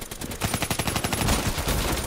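Rapid automatic gunfire from the video game Call of Duty: Black Ops 3 rattles in one loud, continuous burst of evenly spaced shots.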